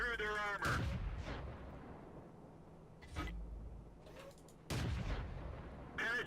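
Tank cannon shots in World of Tanks, Matilda Black Prince battle: several loud booming blasts at irregular intervals, each with a sharp onset and a rumbling decay, over a low steady engine hum.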